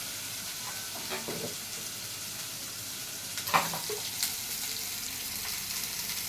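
Garlic roasting and frying in a pan for a Marathi wild-vegetable bhaji gives a steady close sizzle, with a few brief stirring scrapes and clatters over the hiss.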